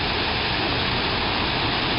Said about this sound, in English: This is the upper reaches of the Rogue River